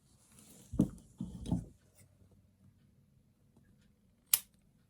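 Scissors trimming fabric for a no-sew gnome craft, a few soft close snips and rustles followed by one sharp click.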